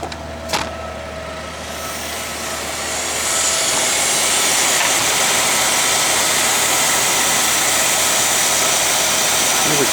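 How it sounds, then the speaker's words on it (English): Big-block V8 in a 1966 Chevy Biscayne running with a rattling heat riser, a loud continuous engine roar with broadband metallic buzz that swells after a sharp click near the start and holds steady, with no voices. "that heat riser is making all the rattling noise"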